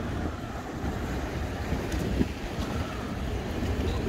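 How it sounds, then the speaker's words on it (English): Waves of the Mediterranean Sea off Tel Aviv, a continuous broad wash of surf mixed with heavy wind rumble on the microphone, steady and fairly loud with no talking. "And the sound is of the Mediterranean Sea."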